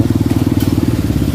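An AKB 200cc motorcycle runs close and loud, its engine giving a steady, rapid, throbbing pulse throughout with no voices.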